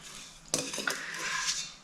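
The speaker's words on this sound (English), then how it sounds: "We're going to make giant cookies, so I'm using my ice cream scoop." A metal ice cream scoop scrapes into thick snickerdoodle cookie dough in a home kitchen, giving a sudden close scrape followed by a second scrape and a softer, steady rasp as the dough is worked, with no talking.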